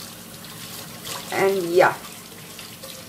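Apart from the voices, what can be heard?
running tap water washing crab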